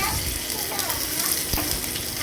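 Onions hitting hot oil in a garlic tempering for tomato rasam, a steady crackling sizzle close by with some stirring scrapes, heard alone without talk.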